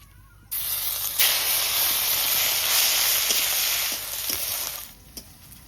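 Garlic goes into hot oil already seasoned with whole cumin and bursts into a loud, steady sizzling hiss, which softens after about four seconds.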